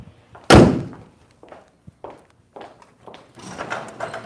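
A car door on a 2024 Hyundai Palisade opens with one sharp loud clunk near the start, followed by scattered light knocks, shuffling and faint background murmur.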